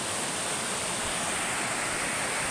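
Continuous broadband rushing of falling water at Caunayan Falls in Aurora, steady and fairly loud, with no voices or breaks.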